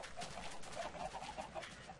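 Chickens in Minecraft clucking in short, repeated bursts over a busy, steady wash of game noise, with no talking.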